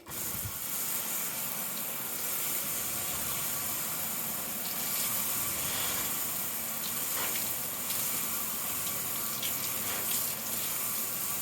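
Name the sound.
pressure washer rinsing cleaner off a car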